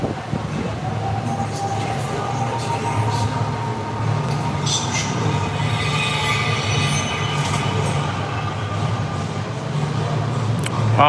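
A Universal Studios Hollywood tram rolls along steadily, its rumble close and continuous, with wheel squeal and metallic screeching rising over it at times.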